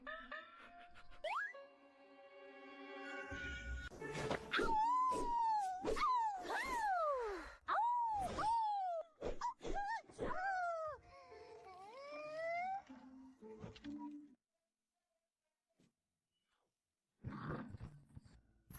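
A dog whimpers in a run of high, wavering whines that rise and fall, fairly close and clear. Quiet moments follow, then a brief faint sound at the end.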